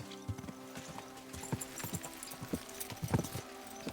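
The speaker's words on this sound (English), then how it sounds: "Just gallop the horses." Horse hooves clip-clopping along a path toward a forest in the video game Kingdom Come 2, an uneven run of faint, distinct hoofbeats that never settles into a fast gallop.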